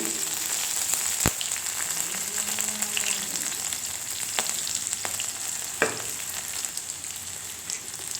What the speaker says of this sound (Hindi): जीरा थोड़ा चटक जाएगा